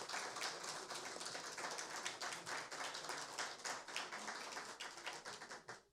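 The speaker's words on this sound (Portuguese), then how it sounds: "sendo aplaudidos aqui pelos vereadores" City councillors in a council chamber during an ordinary session applaud a group of students aged 10 to 12, with steady, dense clapping from many hands that continues for several seconds before tapering off at the end.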